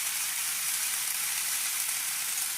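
Constant bright hiss of food frying in a pan, close and steady throughout, with no voices.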